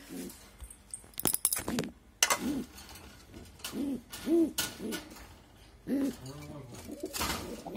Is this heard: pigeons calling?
yes